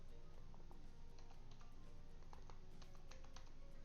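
Quick irregular clicks and taps of fingers typing on a computer keyboard, close and fairly quiet, in uneven bursts over a soft steady background hum.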